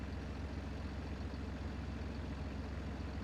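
Old tractor engine in a farming simulation game, running at a steady low idle with a continuous rumbling drone and no talk over it.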